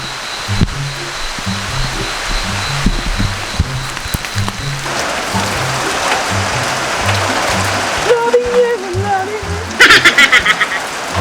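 Steady rain falls outdoors at an old dam, a dense continuous patter with low rhythmic thumps, while people talk intermittently over it.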